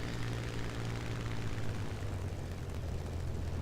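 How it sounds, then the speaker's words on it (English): A Spitfire IIa's piston engine in a flight game drones steadily throughout, a continuous low rumble with a faint pitch drop partway through, loud and alone with no talk. "You can hear the engine RPMs dropping."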